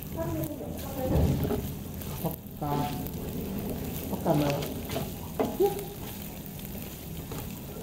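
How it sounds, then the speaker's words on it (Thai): Ham and bacon stir-fry in a hot pan with a steady, close sizzle and occasional scraping of the spatula, while someone talks over the cooking. "ตามด้วย เบคอนค่ะ ตามมัน ผัดจนกลับนี่เริ่มหอมแล้วก็สีดูน่ารับประทานค่ะ"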